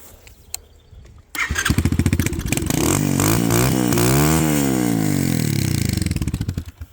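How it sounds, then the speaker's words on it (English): A few clicks, then a 125cc dirt bike engine with a short exhaust catches and revs with a raspy, throaty exhaust, rising and falling before dropping back to idle. "it's got a nice little shorty exhaust that sounds kind of throaty."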